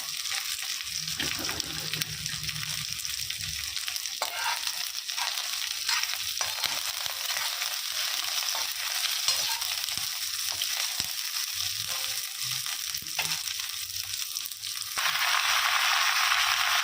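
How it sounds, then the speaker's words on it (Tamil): Dried red chilies, seeds removed, sizzling and being stirred in hot oil while a village-style country chicken fry is made, with a steady frying hiss, scraping of the spoon and a voice talking over it. "இப்போது விதை எடுத்த 12 வரமிளகாயை சேர்த்துக்கலாம்."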